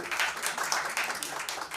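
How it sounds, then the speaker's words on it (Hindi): Audience applause at a live music release event, a dense steady wash of clapping throughout with no talk over it. "जोरदार तालियां इनके लिए।"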